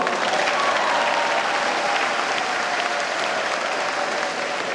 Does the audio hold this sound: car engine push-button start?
no